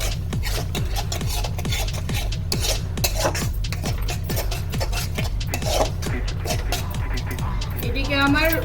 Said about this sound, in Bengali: এটিকে ভালো করে নেড়ে নেব।